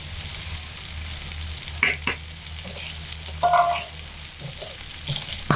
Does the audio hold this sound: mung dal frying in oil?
yes